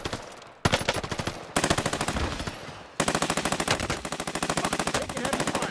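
Automatic gunfire in the video game Warzone comes as three rapid sustained bursts of loud, close, evenly spaced shots, separated by short breaks, with no talk.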